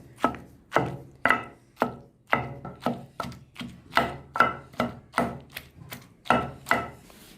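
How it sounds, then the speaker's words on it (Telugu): Steady pounding of drumstick pulp with garlic in a stone mortar, about fifteen dull thuds at an even, unhurried rhythm, close and fairly quiet with no talk. "ఇప్పుడు మునక్కాయ గుజ్జు వేసుకొని ఇందులో వేసుకొని దంచుకుంటున్నా"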